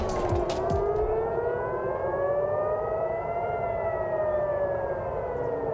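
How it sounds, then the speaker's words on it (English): Air raid sirens wail across Tel Aviv in the morning, a loud sustained tone that rises slowly and then falls, with several sirens overlapping from a distance. A brief rattle comes at the start. "The sound of air raid sirens this morning in Tel Aviv"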